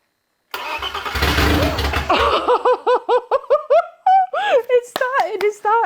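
A BMW E30 325i engine, its cylinder head newly ported, cranks over noisily, then catches and fires into a string of sharp revs with pauses between them. Voices sound over the cranking, and excited whoops break out once the engine runs.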